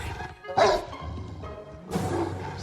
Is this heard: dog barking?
yes